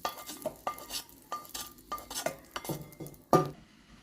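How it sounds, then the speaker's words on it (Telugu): Spoons scrape and clink against a pan and bowl as a hot tempering of cumin, mustard seeds, urad dal and curry leaves goes into a brinjal and cucumber chutney, giving brief sizzles and repeated stirring taps. "పోపు దీంట్లోకి వేసేస్తున్నానండి."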